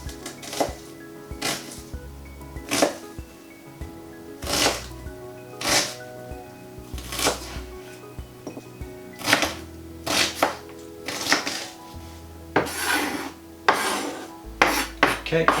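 Peeled onions are roughly chopped with a knife on a board, a run of sharp, close thuds in uneven bursts with short pauses between.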